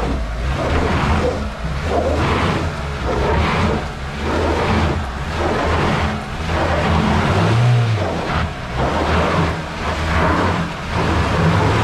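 A stuck front-wheel-drive truck's engine roars and revs during a winching recovery, a heavy rumbling drone that swells and eases in repeated surges over about twelve seconds, loud and close.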